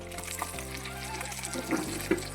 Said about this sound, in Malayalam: ഇനി നന്നായിട്ടത് മൂക്കുന്നിടം വരെ ആ എണ്ണയ്ക്കകത്ത് കിടന്ന് നന്നായിട്ട് വഴന്നു വരട്ടെ